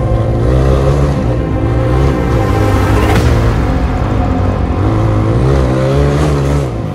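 An off-road motorbike engine drones loud and close as the bike rides through mud on a rough trail, with a steady, throaty roar that swells slightly.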